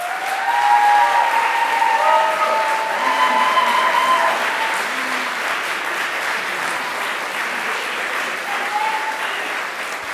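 Sustained applause from a large audience greeting six contest finalists fills the whole stretch, with a faint tonal sound drifting through the early part.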